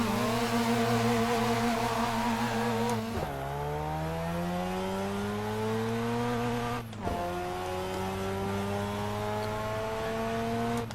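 A Mazda RX-7 sports car engine revs hard and climbs through the gears from 0 to 60. The pitch rises steadily, breaks briefly at each shift, then climbs again. The engine is loud and close, with no talking.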